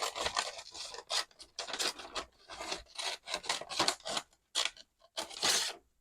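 Scissors snip through a brown paper lunch bag in quick, close bursts of crisp rasping cuts with brief pauses between them, and no voices.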